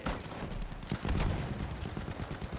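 Suppressing gunfire from a Sten submachine gun in Battlefield V, dense rapid bursts of shots packed together with heavy low-end thumps, loud and continuous with no talk over it.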